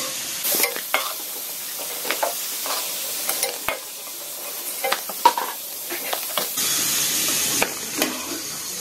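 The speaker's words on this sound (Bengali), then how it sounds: "আলুটাও হাফ ভাজা দিয়ে নিব" Potatoes frying in hot oil while being stirred, with a steady sizzle broken by scraping strokes and clinks of a spatula against the pan.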